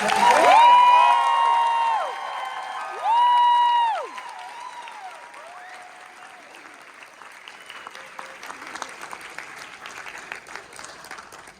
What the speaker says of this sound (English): One final applause for all our new citizens